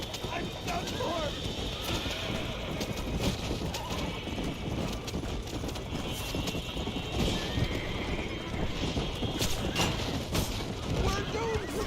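Horse hooves clopping with whinnies in the Western video game Red Dead Redemption, a steady galloping rhythm under game dialogue and ambient noise.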